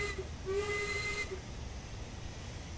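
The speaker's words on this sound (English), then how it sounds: "Quick whistle check just to make sure we're all good." A steam locomotive whistle in Train Sim World 6, on the West Coast Main Line, gives one short, clear tonal blast lasting under a second. A soft hiss and low rumble from the engine carry on after it.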